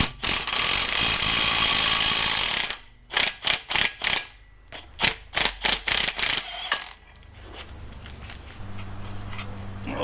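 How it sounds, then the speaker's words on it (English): A ratchet wrench works bolts loose on a Tacoma front axle, giving bursts of quick, sharp clicking after a stretch of loud mechanical noise, then fading to a quiet low hum. "now we undo the 4 bolts from the back"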